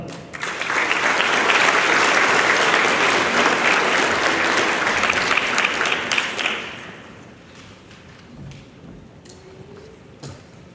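Audience at an 8th grade promotion ceremony applauds loudly and steadily for about six seconds, then the clapping fades to scattered claps and quiet room noise.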